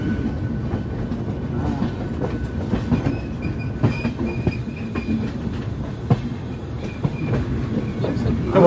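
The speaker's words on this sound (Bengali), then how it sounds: "ট্রেন এখন ঢুকছে ব্যান্ডেল জংশন" An AC passenger train from Kolkata to New Jalpaiguri pulls into Bandel Junction at night, its wheels rumbling and clacking steadily over the track with a faint squeal near the end.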